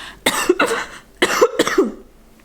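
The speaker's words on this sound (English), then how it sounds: "I just got a really random cough." A person gives two quick bursts of coughing, each a pair of harsh, close, fairly loud coughs, separated by a short pause.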